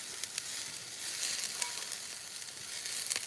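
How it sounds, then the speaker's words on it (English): Onions brown in a pan for a shrimp teriyaki dish, producing a steady moderate sizzle with crisp crackles and small pops, swelling slightly in places, with no voices. "Getting the onions browned."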